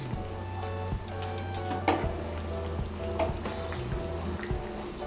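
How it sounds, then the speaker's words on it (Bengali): Garam masala powder being stirred into egg curry frying in a pan, a soft continuous sizzle with a low hum beneath, broken by repeated spoon scrapes and taps against the pan, close and without talk. "গরম মশলার গুঁড়োটাকে ভালো করে মিশিয়ে নেব।"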